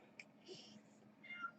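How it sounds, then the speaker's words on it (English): A house cat gives a few faint, drawn-out meows and yowls close by indoors, quiet and brief against a low background hum. "one of my cats decided to come down here and start yowling right now"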